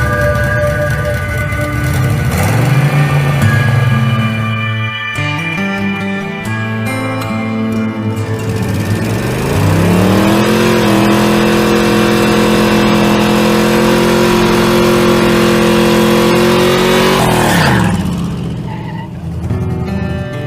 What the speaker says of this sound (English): You need to fix the stuck throttle.